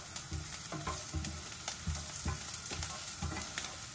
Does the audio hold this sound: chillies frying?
yes